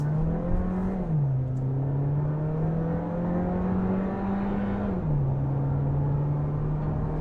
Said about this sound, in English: There was a long pause in between shifts there.